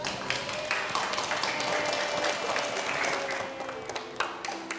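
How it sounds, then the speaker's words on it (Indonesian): Audience applauding after a children's story performance at a school, a thick, continuous wash of clapping with a few sharper close claps, some faint voices underneath. "Tepuk tangan sekali lagi dong untuk teman-teman kita"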